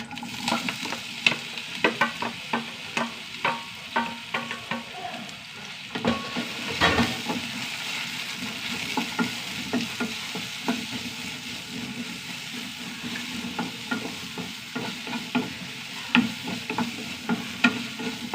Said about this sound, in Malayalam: പഴം നെയ്യിൽ വറുത്താൽ നല്ല ടേസ്റ്റാണ്